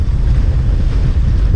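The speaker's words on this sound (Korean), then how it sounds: "파도가 치고 물보라, 물보랑 맞아도 꿋꿋하죠?" Waves crash and sea spray hits a small fishing boat off Incheon, a loud rushing roar mixed with wind buffeting, continuous and close with no speech.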